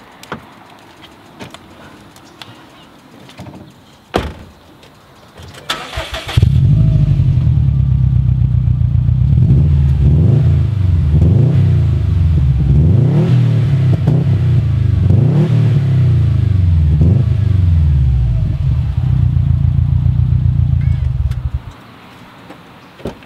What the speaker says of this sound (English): Now let's see how the STI sounds.